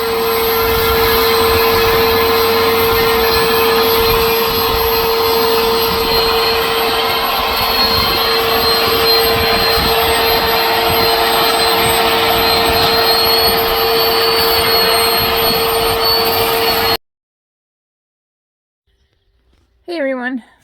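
A power sander works steadily over a sailboat's hull bottom, a loud continuous whine with a droning motor tone lasting about seventeen seconds, then cutting off abruptly before a brief burst of talking.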